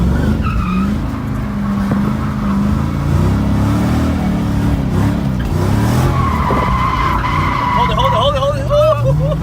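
A 2500 turbo diesel truck drifting with clutch kicks, a loud close engine roar with tire skidding and squeal, and a voice speaking over it.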